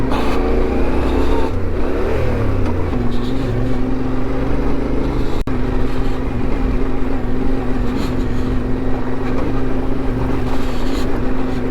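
A Yamaha Ténéré 700 motorcycle accelerates on a mountain gravel track, its engine droning loud and steady with a rising pitch early on and wind noise throughout.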